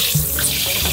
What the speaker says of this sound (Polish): Dobra, wyłączamy wodę.